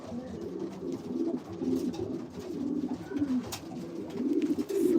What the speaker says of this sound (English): These are all racing pigeons, so all the same type of pigeon.